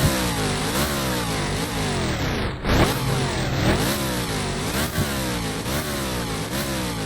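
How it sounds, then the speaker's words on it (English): A car engine in the Roblox racing game Midnight Chasers revs hard and continuously, rising and falling in pitch through repeated gear-like sweeps, loud and close with no talking. "look at the engine. And it even sounds better than literally any BMW, bro."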